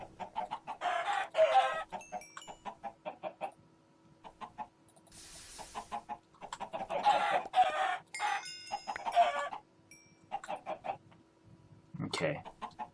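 Chickens in a Minecraft Bloodtania modpack game cluck repeatedly in steady bursts, with one sharper squawk near the end and a brief hissing effect between them.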